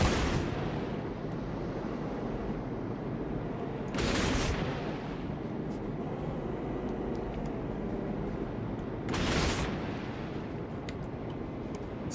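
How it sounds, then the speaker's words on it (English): Torpedoes launch from the Isokaze destroyer in World of Warships, two sharp whooshing bursts about five seconds apart rising over a constant loud rumble of engine and sea. "let's just pummel the area with torpedoes now"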